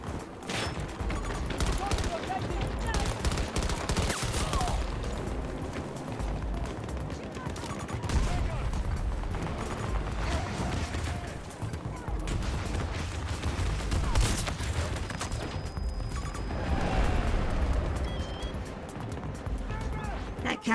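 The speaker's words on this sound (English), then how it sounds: "Did somebody seriously put like a freaking turret right there to like shoot me?" A turret in an online battle video game fires bursts of gunfire over and over, loud and close, with talking now and then under the shooting.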